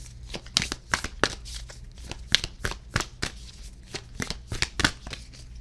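Sailor Moon tarot cards are shuffled by hand in quick, crisp bursts of riffling and slapping that repeat in an irregular rhythm, close and clear.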